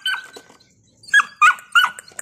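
Belgian Malinois puppies barking close by, a few sharp, high yaps in quick bursts with short gaps between them.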